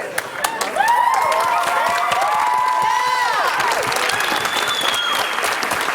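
Loud audience applause with cheering and whoops for the cast of a stage musical production of A Christmas Carol, sustained throughout, with children's shouts and voices mixed into the crowd.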